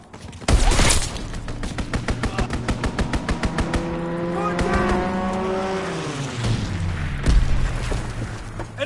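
An enemy strafing run in a military video game, with a fast volley of loud gunfire followed by roaring aircraft engine sweeps and booming explosions, dense and close throughout.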